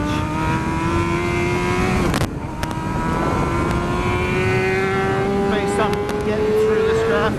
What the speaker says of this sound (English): Let's try some hard braking now.